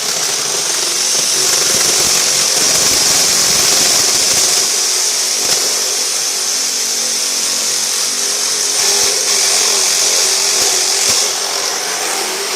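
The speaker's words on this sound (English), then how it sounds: "The Sawzall seemed to not be able to get through it." A Sawzall reciprocating saw strains to cut through some stubborn material, a loud, continuous rasping roar that runs steadily throughout, close and harsh, with no voices over it.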